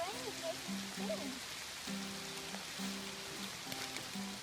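Steady rain patters onto a creek's water, spinning bubbles on the surface, in a soft, constant hiss, with a voice speaking faintly in the background.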